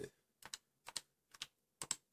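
Keys on a computer keyboard tapped in short bursts, four quick clusters of two or three clicks each, close and crisp in a quiet room.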